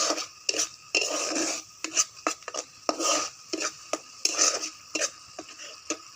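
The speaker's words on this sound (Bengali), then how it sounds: "এতে এবার এই টমেটোর পেস্টটা দিয়ে দেব, দিয়ে একটু ভালো করে কষিয়ে নেব।" Prawns with tomato paste and onions are stirred in a pan, giving repeated scraping and rasping strokes of a utensil against the metal at close range, with only a faint sizzle underneath.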